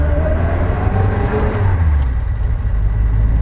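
The engine of a Bond Bug car strains up a hill, a loud, continuous low-pitched drone with a rough mechanical buzz, heard close from inside the cabin with a slight rise and fall in pitch.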